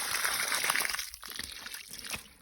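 Water splashes and trickles from a household tap at close range after the supply returns, a fairly quiet flow that fades and thins toward the end.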